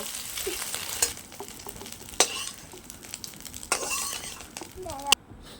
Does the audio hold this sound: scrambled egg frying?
yes